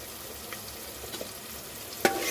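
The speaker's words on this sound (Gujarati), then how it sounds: "સારી રીતે મિક્સ કરી દેશું જ્યાં સુધી ટમેટા સોફ્ટ ના થઈ જાય ત્યાં સુધી આપણે એને તેલમાં ચડવા દઈશું।" Chopped tomato with salt stirs and cooks in hot oil, giving a soft, steady sizzle with a few faint scrapes and one sharper clink near the end.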